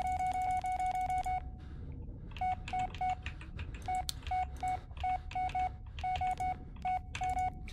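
Phone keypad tones from the Blair Witch video game come in rapid beeping bursts with short gaps, clear and electronic with no talk over them.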